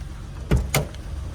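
A car being parked, with two sharp thuds a quarter-second apart, like a door shutting, standing out over a steady low rumble; close by and with no speech.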